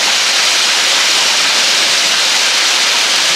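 Water pours over the Lichtenhainer Waterfall in Saxon Switzerland's Elbe Sandstone Mountains, a loud, steady, broadband rush with no talking.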